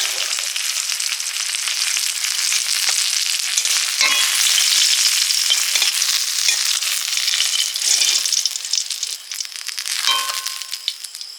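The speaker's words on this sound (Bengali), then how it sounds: "বেগুন ভাজা হচ্ছে এখন" Eggplant slices fry in hot oil with a loud, continuous crackling sizzle, dense popping spatters and a few metallic clinks of a utensil against the pan, with no voices.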